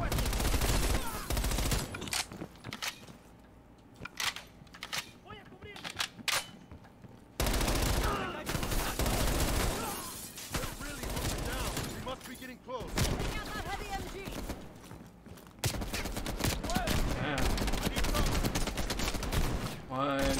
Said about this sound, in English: I'm taking the MP5.